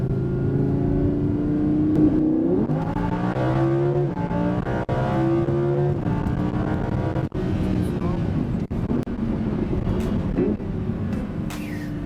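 An Audi R8 V10 Plus accelerating hard on a race circuit, a loud continuous engine roar with rising pitch sweeps through the gears and brief shift dips, heard from inside the car while people talk over it.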